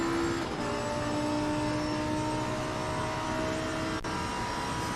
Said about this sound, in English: That engine roaring.